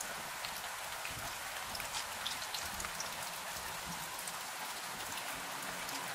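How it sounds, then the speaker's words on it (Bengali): Heavy rain pours down on a village, beating against a palm-leaf shelter in a steady, dense hiss that holds at the same level throughout, with no voices. "এই বৃষ্টি মনে হচ্ছে না আর থামবে। ধীরে ধীরে এর গতি আরো বেড়ে চলেছে।"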